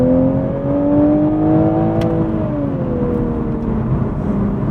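A Toyota A90 Supra engine hums steadily from inside the car as it is driven in manual mode, its pitch easing down partway through with a brief click as the gear changes.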